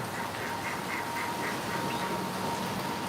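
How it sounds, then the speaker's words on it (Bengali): Ducks bathing in heavy rain give a run of soft, evenly spaced quacks, fairly distant and partly masked by a constant rain hiss. "হাঁসগুলো কত সুন্দর করে গোসল করতেছিল"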